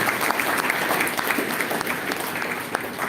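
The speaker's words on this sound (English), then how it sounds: "Round of applause for Mr. Sharma." Audience applause at a panel discussion on climate change challenges, a dense, continuous patter of many hands clapping at moderate loudness for the full few seconds.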